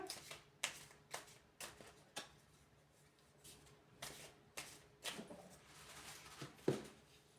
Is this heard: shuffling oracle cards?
yes